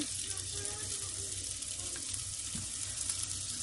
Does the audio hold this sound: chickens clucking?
no